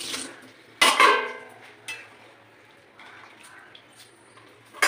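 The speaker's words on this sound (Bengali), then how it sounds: "এবার আমি আস্তে আস্তে চাউমিনগুলো ঢালবো।" Chowmein noodles slide slowly into a pot of water for boiling, with a splashy pour and clatter near the start and then fainter knocks and scrapes of the pot.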